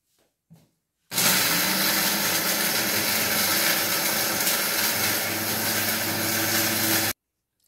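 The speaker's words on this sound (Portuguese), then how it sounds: "Se o liquidificador ficar ruim para bater" A kitchen blender grinds eggshells into powder for homemade garden fertilizer. After a brief knock, it roars continuously at close range for about six seconds at steady, loud volume, then cuts off abruptly.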